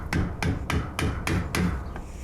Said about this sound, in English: I'm going to start by tapping my screwdriver down in there.